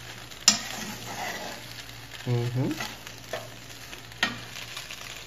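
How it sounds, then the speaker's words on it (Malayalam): Chicken macaroni stirred in a pan, with a few scraping strokes of a spoon and soft sizzling underneath, plus a couple of sharp knocks against the pan; close and fairly quiet with no talking. "ഇതപ്പോ നല്ലപോലെ മിക്സ് ചെയ്യുക."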